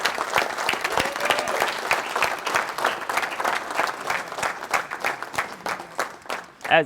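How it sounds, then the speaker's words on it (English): An audience applauds a coach, a sustained burst of many hands clapping close by, with scattered cheers rising near the end. "give your coach right here a round of applause for everything he's done for you guys"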